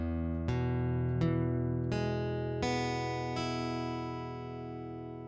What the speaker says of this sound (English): figure out which finger is muting the surrounding strings by slowly picking each string.